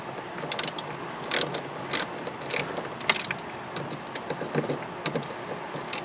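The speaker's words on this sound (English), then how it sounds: "Let's see if I can get in there with this ratchet and see if we can get them" Ratchet clicking while removing the bolts from a wiper motor on a Chevy S10 truck, short bursts of sharp pawl ticks in an uneven rhythm, close and fairly quiet, with no one talking.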